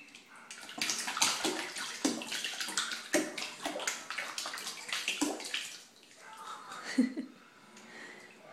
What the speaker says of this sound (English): Are you in the bathtub? Are you a big splasher?